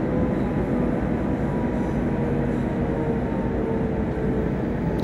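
A train rumbles steadily past in Train Simulator Classic, a continuous loud, low rolling drone with faint higher rail tones holding throughout, close by and with no voices over it.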